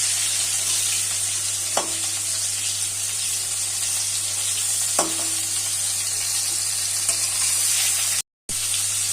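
Slit pointed gourds fry in hot oil in a pan with a constant close sizzle, broken by a few sharp clicks as they are stirred or turned.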